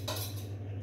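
Caesar salad being mixed with dressing paste makes a short clink of cutlery against a bowl, followed by soft stirring scrapes over a steady low hum.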